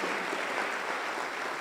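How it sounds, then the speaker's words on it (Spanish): An audience applauds a couple during a Spanish-language talk on love in married life: steady, dense clapping that fills the short moment at an even level with no voice over it. "le vamos a dar un aplauso, ¿verdad?"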